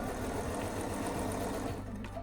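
Sewing machine stitching partial seams on an All in a Row quilt top, a steady fast mechanical whir with rapid needle clatter throughout, close and continuous.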